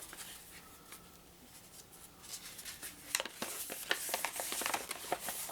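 A large fold-out paper instruction sheet from a 2005 Warhammer 40,000 card game starter deck being unfolded, quiet at first, then a run of crisp crackles and rustles growing louder, close by.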